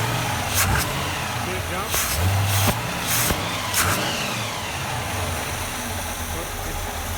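Car engine fitted with an Edelbrock 1400 series carburetor being tuned, running at a raised idle with a steady mid-frequency drone and brief bumps in revs, heard up close beneath a man's speech.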